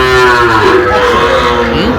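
A heifer calf at a cattle market lets out a loud, drawn-out moo close by, its pitch wavering and sliding over about two seconds.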